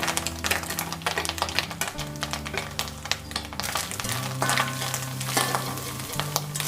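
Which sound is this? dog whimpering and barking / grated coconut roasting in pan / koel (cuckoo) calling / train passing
grated coconut roasting in pan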